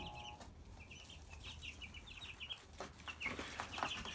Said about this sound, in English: Yep, there's some chicks. Got some more chickens.